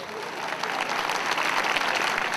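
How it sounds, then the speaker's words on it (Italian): Steady, dense applause from a crowd at a devotional gathering for Maria S.S. dell'Arco in Pozzuoli, holding at full strength for the whole stretch with no voices above it. "Un applauso."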